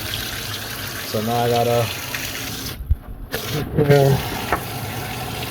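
Hot tap water runs steadily into a sink while pork chops are washed under it, a continuous gushing stream with brief interruptions, as someone talks over it.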